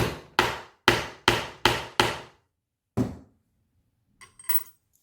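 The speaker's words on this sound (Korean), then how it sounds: "망치 소리가 좀 크게 날 수 있습니다." Hammer blows setting a 15mm ring snap button into leather: six sharp, loud strikes in quick succession, a pause, one more strike, then faint small clicks and clinks of metal parts.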